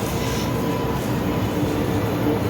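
A metro train arrives at platform 2 on the line to Central, a loud steady rumble filling the platform for a few seconds without voices.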